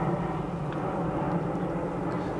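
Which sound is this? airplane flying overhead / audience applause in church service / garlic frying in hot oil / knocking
airplane flying overhead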